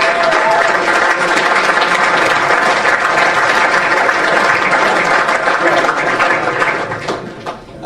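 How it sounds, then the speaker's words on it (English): A crowd at an end-of-season club awards ceremony claps loudly and steadily, a full sustained round of applause that tapers off near the end, with faint voices mixed in. "big round of applause, ladies and gentlemen"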